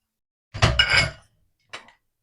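A spoon scraping and clinking against a pan while semolina roasts in ghee for Tamil ukkarai, two short bursts of metallic stirring with a brief gap between, close and fairly clear.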